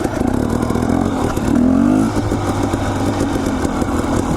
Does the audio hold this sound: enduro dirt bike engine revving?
yes